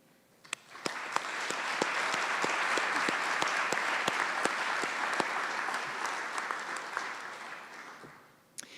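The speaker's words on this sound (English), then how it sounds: "Congratulations, we applaud you all." A commencement audience applauds in a big hall, a steady wash of many hands swelling up, holding for several seconds with a few sharper nearby claps, then tapering off.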